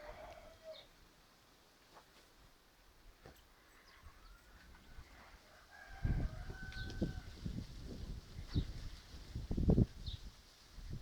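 Chickens and growing chicks cluck and peep at a farmyard, soft and scattered at first, then a louder burst of clucking with a few rustling, scratching noises nearby.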